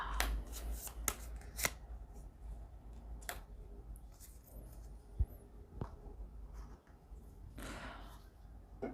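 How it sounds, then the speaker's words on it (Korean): Soft riffling and quiet clicking taps as tarot cards are shuffled and drawn, faint and close in a quiet room. "보조 카드 뽑아보겠습니다."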